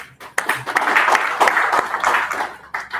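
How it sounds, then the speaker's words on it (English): An audience at a tech meet-and-greet event gives a round of applause, steady dense clapping lasting a few seconds, fairly loud and close. "I would also like you to give a special round of applause to the Sapphire Hub for organizing this program."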